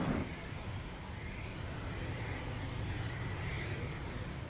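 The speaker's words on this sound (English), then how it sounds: "And they're bringing the airplane in for a quick touch and go." A Boeing 787-9 Dreamliner flying a display at the 2014 Farnborough Airshow gives a steady, broad jet roar that holds evenly throughout and sounds moderately distant, with no clear voices over it.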